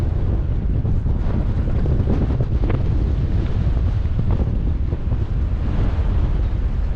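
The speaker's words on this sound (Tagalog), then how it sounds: "Mahangin kasi." Wind gusts past the microphone at sea beside a jet ski, a low continuous rumble and buffeting roar with faint water wash underneath.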